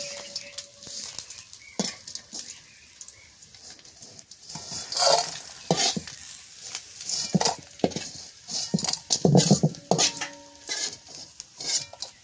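Small whole river fish fry in hot oil until crisp, a soft sizzle broken by irregular stirring and the clink of a utensil against the pan, loudest toward the end.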